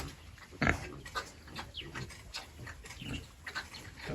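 Pigs grunting: repeated short low grunts and snorts at close range over a noisy outdoor background, with no talking.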